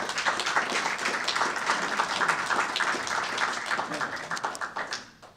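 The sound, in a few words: audience applauding debaters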